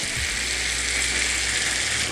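Onions with tomato paste and ginger, garlic and chilli paste fry in a pan for stingray fish kalia, giving a brief, even, close-up sizzle with no talking.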